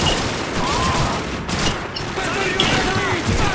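Machine gun fire in Call of Duty 2, a loud continuous rattle of shots with what sounds like voices mixed underneath throughout.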